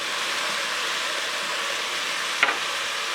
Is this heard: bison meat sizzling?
yes